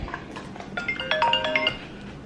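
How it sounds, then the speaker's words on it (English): A phone ringtone plays a short, bright electronic melody, moderately loud and close, over faint background noise with no voices. "Oh, phone's ringing."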